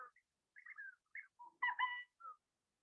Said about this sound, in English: Okay, burrowing owl.